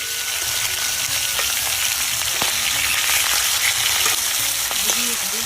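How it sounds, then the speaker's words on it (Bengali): Pangas fish pieces fry in hot oil, with a dense, continuous sizzle and crackle and scattered sharper pops. No talk is heard. "তেল গরম হয়ে গেছে, এখন মাছগুলো ভেজে নেব।"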